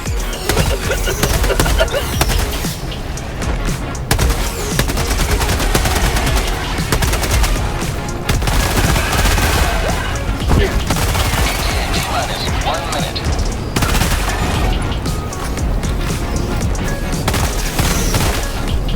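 Continuous burst gunfire from the shooter game Helldivers 2, loud and dense with rapid repeated shots and occasional booms throughout, with a voice talking over the action.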